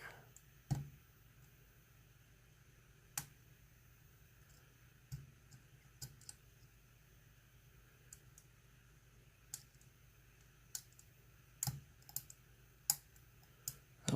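Small, sharp metallic clicks sound at irregular intervals as a Mul-T-Lock C10 padlock is picked, close and faint over a quiet background, with a dozen or so isolated ticks spread across the clip.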